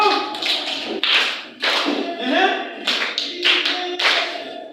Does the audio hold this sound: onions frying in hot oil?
no